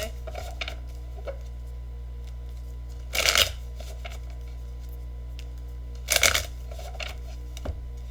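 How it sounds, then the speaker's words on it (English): Tarot cards being shuffled, heard as two brief crisp riffling bursts a few seconds apart over a low steady hum, close and fairly quiet, with a few faint taps between. "let's pull some advice and guidance cards for you"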